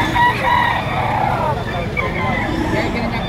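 A white kelso bull stag gamecock crows at a sale in Lipa, Batangas, one drawn-out call partly buried under people talking and other background noise.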